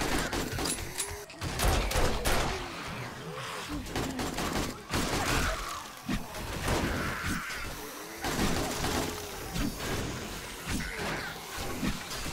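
Dense, rapid bursts of gunfire from the zombie survival game 7 Days To Die, Alpha 20, during a horde attack, loud and nearly continuous, with a voice talking over parts of it.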